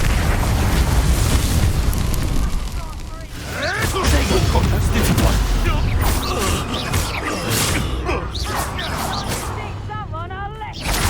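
Bombarda blasting spells explode in a Hogwarts Legacy battle, loud booming blasts and crackling debris that run on with little pause, mixed with game effects and spoken voice lines.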